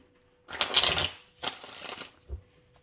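A tarot deck is shuffled in two quick riffling bursts close by, followed by a soft tap of cards being squared, with no talking.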